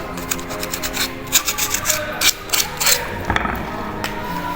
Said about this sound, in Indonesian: untuk proses yang terakhir yaitu penghalusan ornamen, bisa menggunakan amplas, bisa juga menggunakan pahat